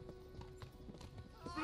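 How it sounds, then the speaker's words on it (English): Horse hooves clip-clopping at a steady walk in the video game Kingdom Come: Deliverance, fairly quiet and close, with a brief tonal whinny-like sound near the end. "I also don't blame the horse anymore."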